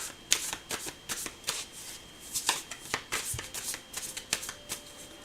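Someone shuffles a deck of cards up close: repeated crisp riffles and flutters in an irregular rhythm, fairly soft, with no speech.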